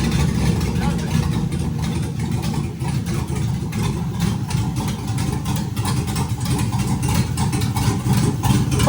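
A Jeep with an LS engine swap runs close by, a steady, loud low-pitched rumble that holds fairly even with only slight swells rather than sharp revs.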